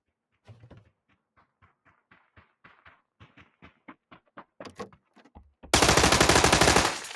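Gunfire in PUBG, the battle royale video game: a string of separate shots at an uneven pace grows louder, then breaks into a dense, loud burst of rapid automatic fire near the end.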